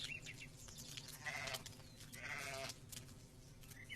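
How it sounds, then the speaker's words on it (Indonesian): A small sheep gives two faint, wavering bleats about a second apart over a low background hum, with no talking. "Hanya inilah yang bisa kuselamatkan dari anjing itu. Iya, seekor domba kecil terbaik."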